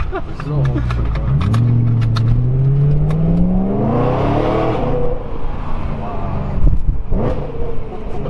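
A BMW M3 fitted with a new H-pipe exhaust revs hard while driving, its engine note climbing in a long rising sweep, then easing and surging again, loud and close, with voices briefly heard.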